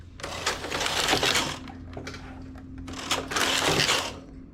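Knitting machine fitted with a ribber shaping a V-neck with tuck stitches, its carriage sliding in two loud whirring, clattering passes with a short quieter pause between, no voices.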